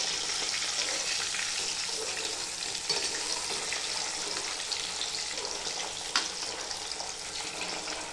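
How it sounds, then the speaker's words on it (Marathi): Semolina-coated fish frying in oil, a dense, loud, continuous sizzle close by, with a couple of small clicks and no speech. "नंतर बारीक रव्यामध्ये माशांना लावायचं आणि तेलामध्ये फ्राय करायचं"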